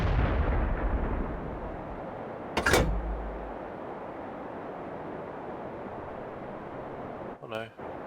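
An M44 self-propelled artillery gun fires once in the World of Tanks video game, a single heavy booming shot with a long rumbling tail, followed by a brief clank near the end.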